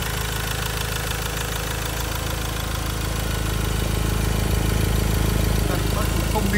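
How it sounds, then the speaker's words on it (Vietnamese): Imported Ford Ranger 2021 with a 2.2 diesel engine, manual gearbox, idling smoothly with a dense, even mechanical rumble that grows slightly louder toward the end. "còn đây là cái tiếng động cơ đang hoạt động nha quý anh chị, nghe cái tiếng động cơ này, máy chạy rất là êm thiết luôn"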